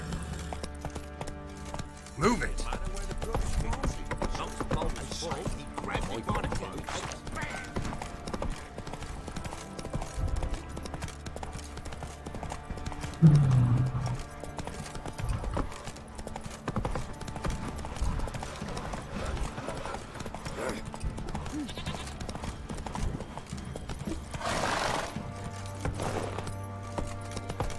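Roach the horse gallops in the video game Witcher 3, a steady run of hoofbeats carrying through the whole stretch with an occasional snort or whinny, as someone shouts a command over the running hooves.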